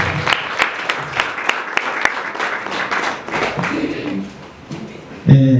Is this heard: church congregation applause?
yes